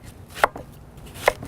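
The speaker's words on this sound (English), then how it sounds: "Next, we're gonna cut up a squash." A knife chops through squash on a cutting board in two sharp, isolated knocks about a second apart, close and crisp with quiet between them.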